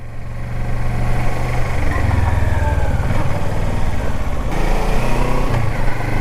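2017 Kawasaki Versys 650 adventure touring motorcycle engine under way, a loud, steady droning hum with wind rush as the bike rides along and the pitch shifts slightly between gears.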